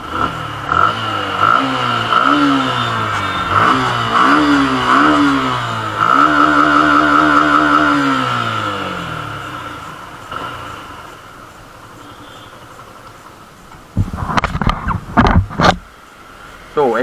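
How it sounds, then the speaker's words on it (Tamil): A 2020 Suzuki Intruder 150 cruiser motorcycle fitted with Powerline headers idles and revs through its exhaust, rising and falling engine tones holding for several seconds before fading, then a few sharp louder bursts near the end. "வண்டியோட எக்ஸாஸ்ட் சவுண்ட் கேளுங்க கைஸ்."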